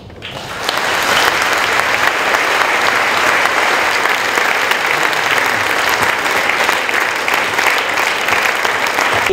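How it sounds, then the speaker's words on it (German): A large audience at an election celebration honouring Swiss Federal President Johann Schneider-Ammann breaks into loud applause that swells within a second and holds steady and dense for many seconds. "der letzte Applaus, den ich initiieren kann"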